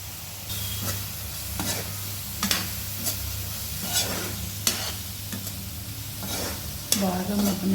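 Ginger garlic paste and garam masala cooking in a pan for fish fry, a soft constant sizzle broken by repeated scraping strokes of a spoon stirring every second or so, no speech.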